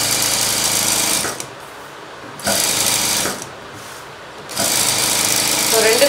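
A sewing machine stitches blouse fabric in loud, rapid whirring bursts, three runs separated by short pauses.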